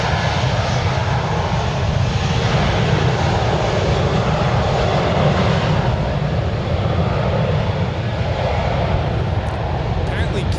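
A 24-year-old United Airlines Airbus A320 jet departs San Francisco International Airport, its engines roaring loud and steady across the whole stretch, with voices talking over the continuous rumble.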